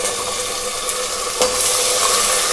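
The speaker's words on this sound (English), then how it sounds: "We have to fry the ginger garlic paste for 1 minute" Ginger garlic paste frying in hot oil alongside browned onions for an eggplant curry, a steady bright sizzle with occasional stirring scrapes, close and continuous.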